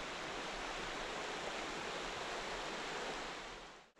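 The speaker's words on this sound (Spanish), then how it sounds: "Vamos al río, que lo tenemos ahí abajo." River water flows below a rocky path, a steady dense rushing hiss that fills the whole stretch before cutting off abruptly at the end.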